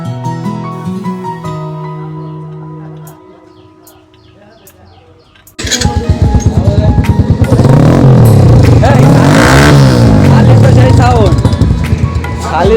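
A motorcycle engine, apparently fitted with a loud aftermarket exhaust, bursts in after a quieter opening with birdsong and music, then revs hard and repeatedly, close and loud, with voices talking over it.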